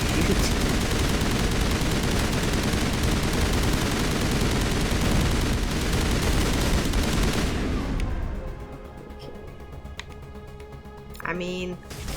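Dense, loud gunfire in Mass Effect Legendary Edition on Ilos rips continuously for about eight seconds, then drops away to quieter game sounds while a player talks throughout.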